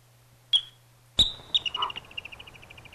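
A yellow-bellied marmot alarm call: two sharp high chirps followed by a rapid descending trill of short notes, fairly clear against a quiet background with a low steady hum.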